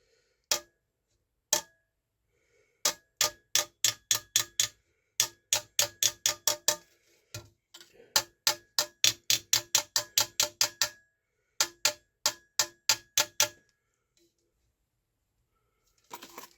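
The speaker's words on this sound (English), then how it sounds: "that dead tapping sound, that's over the metal" Sharp metallic taps in quick bursts, separated by short pauses, ringing lightly against the hollow metal body of a 1957 Buescher Elkhart saxophone in an otherwise quiet room.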